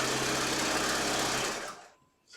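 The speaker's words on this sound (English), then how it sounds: "let's go to the sewing machine. So the first thing we want to do is stay stitch the top edges of this muslin" A sewing machine runs steadily, stay stitching the top edges of a muslin piece at a half-inch seam; the close, loud mechanical whir holds for about a second and a half, then slows and stops.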